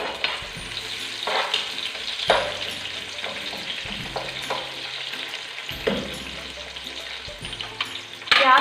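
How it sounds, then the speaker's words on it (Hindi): Sliced medium onion sizzles in hot oil in a pan for pulao, a steady close crackle with occasional stirring clatters and scrapes. "ऑयल में अब मैं डालने लगी हूँ एक दरमियाने साइज़ का मैंने प्याज लिया है, उसको मैंने स्लाइस काट लिए हैं और अब मैं इसको तेल में डालने लगी हूँ।"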